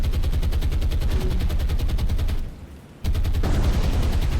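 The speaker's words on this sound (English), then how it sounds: "That anti-aircraft fire is fierce." Anti-aircraft guns in the naval combat game War on the Sea fire in rapid, steady automatic bursts. The loud fire breaks off for half a second, then resumes at the same relentless rate.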